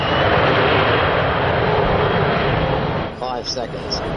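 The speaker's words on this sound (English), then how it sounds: "The engines are brought up to power." Four jet engines of an Avro Vulcan bomber spool up to power in a loud, steady, broadband roar that eases slightly near the end as a voice briefly cuts in.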